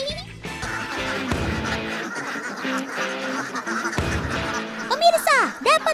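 A flock of thousands of ducks on a duck farm quacking densely and continuously, loud and close, with a voice speaking over the flock toward the end.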